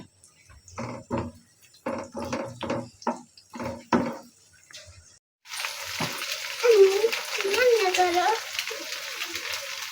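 Noodles with egg frying in mustard oil, a continuous close sizzle with stirring and scraping that starts partway through, following a stretch of someone talking.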